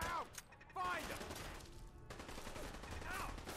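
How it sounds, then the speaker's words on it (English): Automated turret firing in Fallout 4, bursts of rapid shots with mechanical whirring, moderately loud amid game ambience and brief voices. "This turret hurts."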